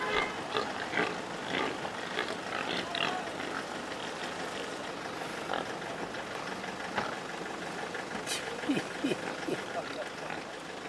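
Pata negra pigs out in a field in Extremadura, with scattered grunts and oinks against a constant outdoor background and a low, engine-like rumble.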